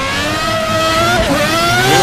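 Formula V12 race car in the GSC2013 racing game spinning its wheels under power, a loud high-revving engine whine that rises and dips with the slipping tyres, steady and close with no talk.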